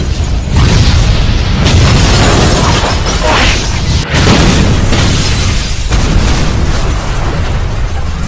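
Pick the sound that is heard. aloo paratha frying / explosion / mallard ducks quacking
explosion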